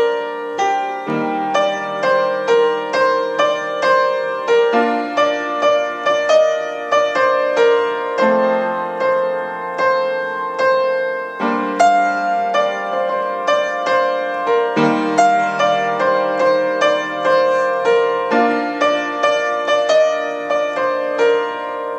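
Solo piano plays the melody of a song, with clear repeated chords under a bright right-hand tune in a steady moderate rhythm, close and alone.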